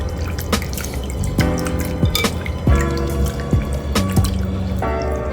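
Chicken gizzards are rubbed and washed by hand in a bowl of lemon water, giving close, wet sloshing, splashes and dripping in irregular bursts with small squelches, no voices.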